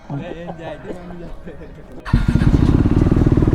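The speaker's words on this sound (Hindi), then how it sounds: "चलो बाइक को अंदर पार्क करते हैं।" A motorcycle being parked indoors starts up and settles into a loud, close, rapid rhythmic idle, following a few seconds of people talking and laughing.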